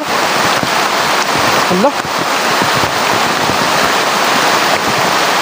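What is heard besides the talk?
heavy rain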